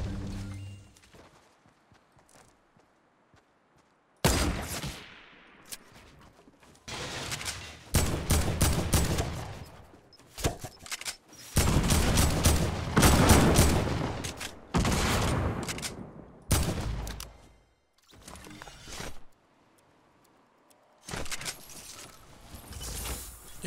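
Bursts of AK rifle gunfire in a shooter video game, loud rapid volleys of automatic fire repeating in clusters with short quiet gaps between them, alone with no talking.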